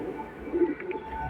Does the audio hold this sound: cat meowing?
no